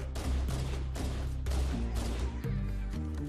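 Gunfire from the video game Halo: Combat Evolved fills the moment in a loud, continuous burst of repeated shots with a heavy low thump, with no talking.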